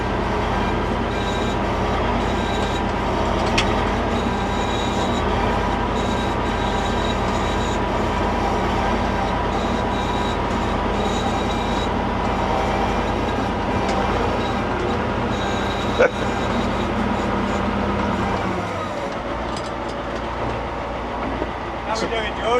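Heavy engine of a 47-year-old Ford FW30 articulated tractor rumbles steadily at close range, a continuous loud droning roar that eases somewhat near the end.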